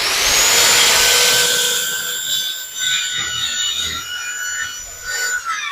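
Wood being cut by hand for a tiny cabin build outdoors, a steady rasping, scraping rush for about four seconds that then tapers into lighter, uneven strokes, close and loud with no talking.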